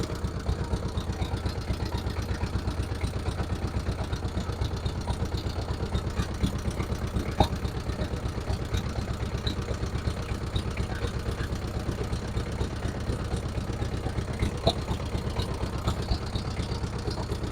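A boat engine runs on a small canal at a wetland, giving a steady, close, rhythmic throbbing chug at an even pace from start to finish, with no talk over it.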